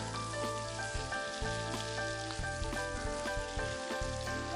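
Colourful sweets fry in hot ghee, giving a steady, even crackle and sizzle that carries on without a break under quiet background music.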